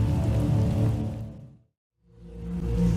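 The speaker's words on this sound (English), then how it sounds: "I fear the storm is getting worse." A heavy rain storm in the video game Star Wars: The Old Republic, a dense, steady hiss of pouring rain that briefly fades to silence midway before surging back.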